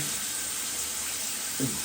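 Water pours at low pressure from an Aquadance shower head, a faint steady hiss that runs without a break, with a brief soft bump near the end.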